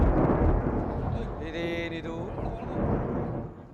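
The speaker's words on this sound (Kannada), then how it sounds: "ಗುಡುಗಿನ ಶಬ್ದವಾಗುತ್ತಿರುವುದಲ್ಲ" A thunder sound effect rumbles loudly across a village stage performance of a mythological drama, a deep sustained roll heard while an actor speaks.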